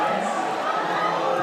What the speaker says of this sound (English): The crowd are urging a shot.